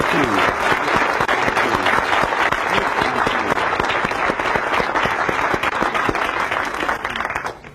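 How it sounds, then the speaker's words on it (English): Sustained audience applause for motivational speaker Zig Ziglar at a Qualities of Success seminar, dense and loud for several seconds before tapering off at the end, with voices mixed into the clapping. "Let's give Zig one more well-deserved round of applause"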